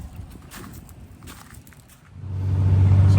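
Diesel pickup truck with Ducky 5x12 injectors and a 450 hp setup pulls onto the road, starting with light crunching and footsteps before the engine swells into a loud, steady drone.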